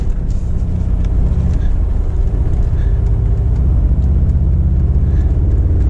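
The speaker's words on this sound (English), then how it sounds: "another acceleration. We're still in sport mode." A Mercedes G63 AMG accelerating uphill in sport mode, heard from inside as a steady loud engine rumble and road roar, with the gear held throughout.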